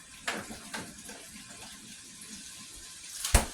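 A kitchen tap runs hot water into a cup for bread dough, with a quiet trickle broken by a few short splashy bursts and a louder gush near the end.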